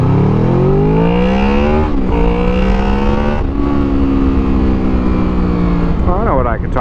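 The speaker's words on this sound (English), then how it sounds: "See if you can hear the VTEC here" A Honda VFR800 motorcycle engine revs hard into its VTEC range with a loud, steady, droning howl, briefly dipping twice as the revs shift before climbing again with a rising whine at the end.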